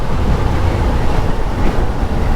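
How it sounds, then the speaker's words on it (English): Strong wind buffets the microphone outdoors as a steady, loud low rumble with gusting swells, heard alone without speech for a couple of seconds. "It's windy today."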